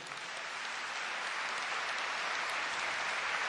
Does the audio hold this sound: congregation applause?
yes